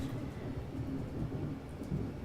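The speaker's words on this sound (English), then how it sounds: "patiently for the thunder to die down." Low thunder rumbles on without a break, a heavy, deep roll that stays steady and fairly loud, with faint rain hiss on top and nobody talking.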